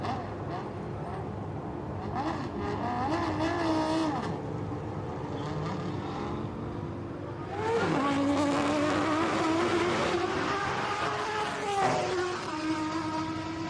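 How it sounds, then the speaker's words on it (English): A race car with a Judd V10 Screamer engine running at a speed event, its high-pitched wail rising through the gears in sweeping climbs and dropping between shifts, heard from a distance under crowd ambience. "you've got a Judd V10 Screamer allied to a very, very good chassis and lots of downforce"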